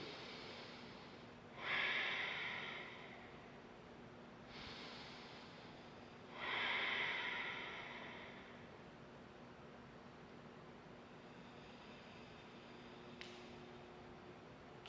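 Deep breathing held in a power yoga pose, two long audible nasal exhales spaced several seconds apart, close and fairly soft over quiet room hiss, with a faint click near the end.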